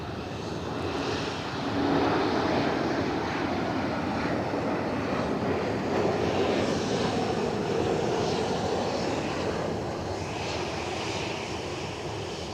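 Cessna 560XL Citation business jet departing Edinburgh Airport, a steady, fairly loud engine roar that swells and holds as it climbs away, with no voices.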